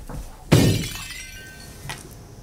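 A small decorative glass ball shatters with one sudden loud crash, its bright ringing fragments trailing off over the next second, followed by a faint tinkle of settling shards in an otherwise quiet room.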